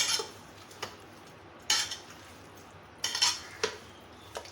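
A spoon scrapes and clinks against a pan while mutton keema is mixed with cumin and crushed coriander, in a few separate bursts of sharp metallic knocks over a quiet background.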